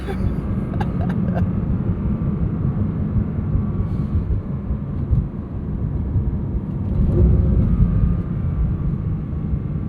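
The 4-liter flat-six of a 2025 Porsche 911 GT3 Touring drones with a steady low rumble that swells slightly near the end, while a voice talks over it.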